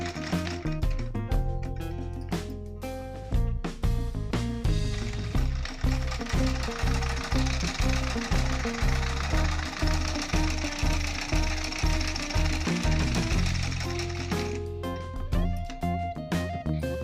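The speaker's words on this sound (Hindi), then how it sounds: "तो चलिए अब सिलाई लगा लेते हैं यहाँ पे।" Sewing machine stitching fabric at close range, with a rapid, steady mechanical rattle that runs continuously for most of the span, starting and stopping with brief pauses and no voices.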